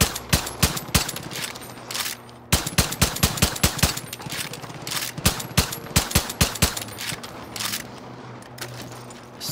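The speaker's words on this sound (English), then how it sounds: "this is a machine gun, I guess" A machine gun fires in Far Cry New Dawn, loud rapid bursts of sharp gunshots, close and punchy, with brief pauses between volleys and no speech over them.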